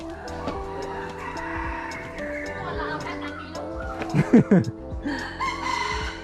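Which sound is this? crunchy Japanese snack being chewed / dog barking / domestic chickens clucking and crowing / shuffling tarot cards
domestic chickens clucking and crowing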